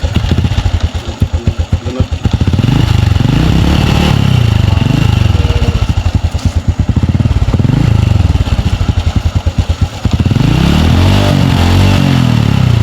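A motorcycle engine sputters and revs unevenly up close while restarting on a muddy mountain trail in the rain, its rough chugging rising and falling over several seconds with clattering mechanical noise.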